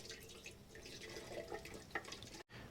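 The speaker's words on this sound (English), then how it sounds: "we're going to pour this vinegar in here, and we're going to fill it up and let it cook" Vinegar pours into the fuel tank of a 1975 Kawasaki KE125 motorcycle, making a steady, hollow gurgling stream at close range that briefly cuts out near the end.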